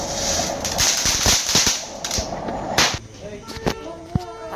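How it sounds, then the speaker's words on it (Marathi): Firecracker bombs bursting outdoors during Diwali celebrations, a rapid string of sharp cracks and pops, some near and loud, others fainter, with scattered bangs trailing off toward the end. "ताडताडी बॉम्ब लावलाय."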